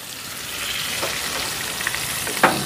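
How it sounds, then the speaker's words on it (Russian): Fish fries in a pan with a steady bright sizzle and crackle, punctuated by a couple of sharper pops near the end, close up with no talking. "Рыбу жарит."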